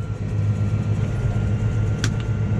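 A tractor pulling a Fraser silage trailer heads off down a farm road at barley harvest, giving a loud low engine rumble with a brief higher rattle partway through, no voices.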